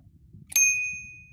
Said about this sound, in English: Adjustable handlebars, and even has a little bell.